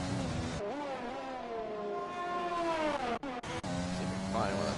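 Formula 1 car engine in the F1 2020 video game at the Japan round, a sustained high whining drone that climbs through gears with brief cuts between shifts, under esports commentary.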